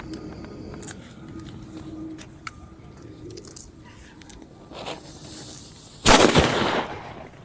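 A big bullet-type Diwali firecracker bursts in one loud, sharp blast near the end, with crackling and a short fizzing tail after a long stretch of quiet outdoor background noise.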